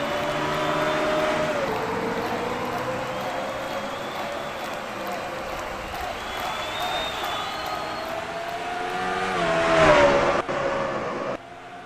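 Chevrolet race trucks roar as they accelerate together at the green flag in a racing video game at Nashville, a steady loud engine drone that swells near the end, with a commentator talking over it.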